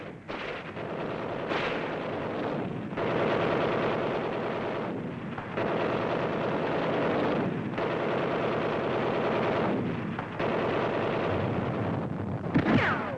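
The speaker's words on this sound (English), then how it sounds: "The deadly mortar goes into action." A WWII mortar fires during the Marshall Islands invasion on newsreel soundtrack, heavy booming blasts rolling into one another with a dense, continuous roar and noisy, wind-like texture.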